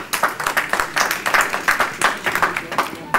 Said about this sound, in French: ça, c'est quelque chose qu'il faut applaudir